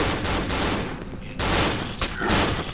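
Gunfire in the horror game Cry of Fear, a dense, continuous barrage of loud shots crackling across several seconds with brief dips, sounding like sustained rapid fire rather than single sniper cracks.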